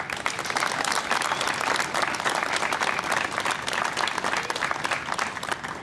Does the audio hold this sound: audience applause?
yes